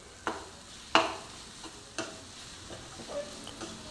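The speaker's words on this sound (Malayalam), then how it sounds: "മല്ലിപ്പൊടി ഇതും കൂടെ ചേർത്ത് നന്നായി ഒന്ന് മൂപ്പിച്ചെടുക്കുക" Coriander powder and spices roasting in a pan, a faint soft sizzle under a few sharp spoon taps and scrapes against the pan, quiet and without speech.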